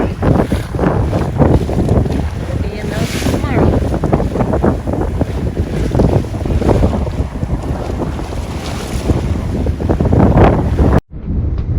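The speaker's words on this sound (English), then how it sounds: "Rough waves out there." Strong wind buffets the microphone over rushing, splashing water as a sailboat pushes through rough waves near Cave Cay, loud and continuous.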